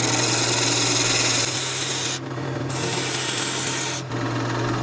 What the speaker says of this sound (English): I'm actually going to use my parting tool just to make sure I know the difference between the middle and the handles